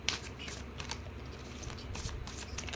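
Tarot cards are shuffled in a quick series of soft riffling flutters and light taps, close and quiet, with no talking.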